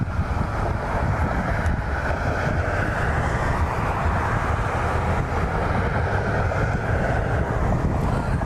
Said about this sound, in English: American taxiing over to its gate.